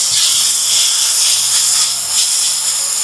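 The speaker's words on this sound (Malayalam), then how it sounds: "ഇതിലേക്ക് നമ്മൾ ചതച്ച് വെച്ചിരിക്കുന്നതെല്ലാം കൂടിയിട്ട് അങ്ങ് ചേർത്ത് കൊടുക്കാം." Crushed ingredients hitting onions in a hot pan produce a loud, sustained hissing sizzle, close up and unbroken for a few seconds, with no talk over it.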